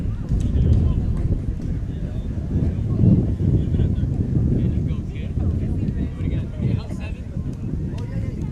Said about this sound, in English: it's a howling, consistent wind coming in from straightaway center field